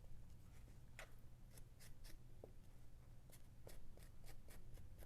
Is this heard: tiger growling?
no